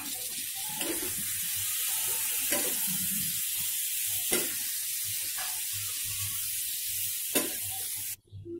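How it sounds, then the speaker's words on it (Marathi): Prawns tossed into a hot tawa and frying in a masala of Kashmiri red chilli and spices, giving a steady close sizzle with several sharp stirring scrapes spread across the clip and no talking. "आता आपली कोलंबी घालायची आहे त्यामध्ये"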